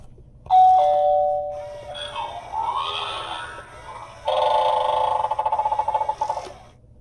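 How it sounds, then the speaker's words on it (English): An electronic doorbell chimes a short tune, then rings again with a longer sustained tone, loud against a quiet room. "I hear the doorbell."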